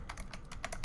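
Rapid typing on a computer keyboard, a quick close run of about eight soft key clicks over less than a second, with no talk.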